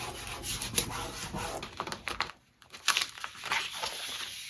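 Vinyl being rubbed down firmly onto cardstock, close scratchy rubbing and swishing strokes in quick repeated bursts, with a brief pause midway before the rubbing resumes.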